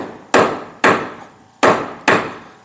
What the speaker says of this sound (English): this is just a plain old 2x4 and a framing hammer